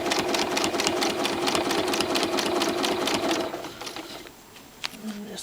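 Sewing machine stitching at a steady fast rhythm during free-motion quilting with rulers and a Dahlia template, running continuously up close for about three and a half seconds, then stopping into quiet handling sounds.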